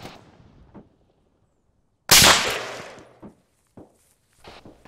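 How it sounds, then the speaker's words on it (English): Gunfire in ArmA 3: a sudden loud, sharp shot burst lands midway and decays over about a second, followed by a few faint, scattered cracks or impacts against an otherwise quiet backdrop. "Getting shot at."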